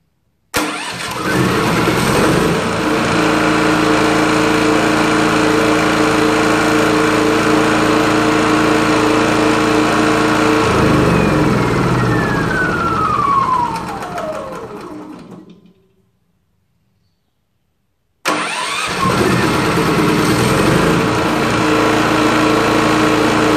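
Generator engine cranks and starts by remote app, running loud and steady for about fifteen seconds, then winds down to silence and restarts abruptly.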